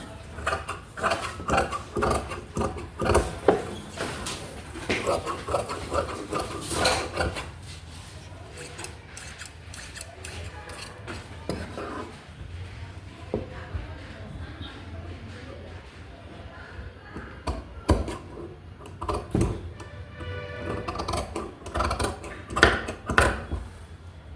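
Scissors snip and crunch through marked blouse fabric for a lehenga-style blouse in repeated, uneven bursts of cutting close by, with quieter rustling of cloth between the cuts.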